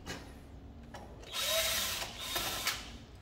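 Power drill whirring in short bursts while a Fuji Xerox DocuCentre IV C2265 copier is taken apart, close and fairly quiet, with brief gaps between runs.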